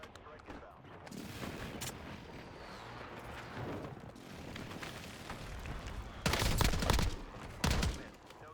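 Airstrike explosions and gunfire in the Call of Duty game, a continuous rattle of distant shots building to two loud, booming blasts near the end, with faint voices mixed in.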